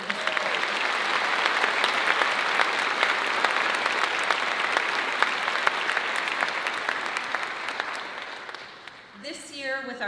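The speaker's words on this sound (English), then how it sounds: "So a round of applause for Mr." A big audience at a school district's opening day breaks into long, dense applause, steady for about eight seconds before tapering off, and then a voice begins speaking at the end.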